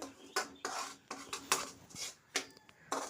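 Roasted semolina for avarekalu upma is scraped from a metal pan onto a plate, making a series of close, sharp scrapes and clinks of spoon against pan at an uneven rhythm, with no talking.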